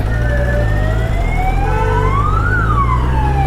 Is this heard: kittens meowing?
no